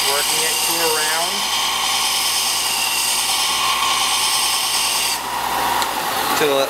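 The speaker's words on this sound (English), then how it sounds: "taking it on a belt sander, and we've made a nice round edge" Belt sander grinding a rounded edge onto an air chisel bit, a steady continuous abrasive rasp that holds for several seconds with a brief dip near the end, loud and close.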